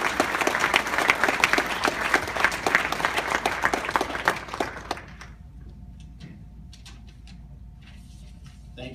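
An audience at a business school student speaker event applauds to welcome Colin to the podium: loud, dense clapping for about five seconds, then it quickly thins to scattered claps and near quiet.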